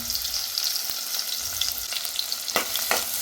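Chopped onion and green chillies fry in a pan with a steady, close sizzle, with a few louder stirring scrapes and clicks and no talking.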